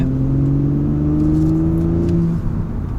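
Audi S4 TFSI quattro engine accelerating at night in normal mode on a road, a steady close mid-pitched drone with two rising harmonic tones that climb gradually as the car gathers speed, with continuous tyre and road rumble beneath.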